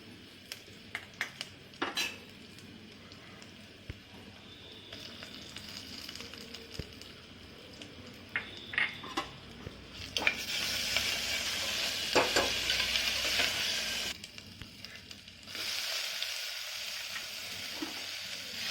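Ginger paste sizzling in an oiled pan for vegetable pulao, a steady hiss that swells loudly midway, with scattered clinks and scrapes of a spoon against the pan.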